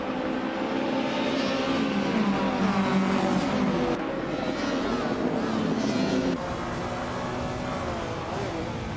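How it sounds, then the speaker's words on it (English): A 1989 TVR Tuscan races in a video game, its engine holding a steady, loud, continuous drone with a shifting pitch and no clear break. "Plebisri is driving a 1989 TVR Tuscan."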